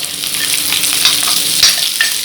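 Finely chopped carrot and beans stir-frying on a stovetop, a steady close sizzle broken by scraping stirs and a few brighter crackles, with no talking.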